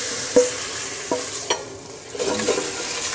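Vegetables sweating in a frying pan for a steak and ale pie, with a steady soft sizzle under a few scattered stirring scrapes and knocks of a utensil against the pan.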